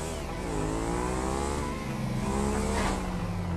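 A car in the video game GTA 5 drives with a loud, continuous engine drone that rises in pitch as it revs and accelerates, with no voices over it.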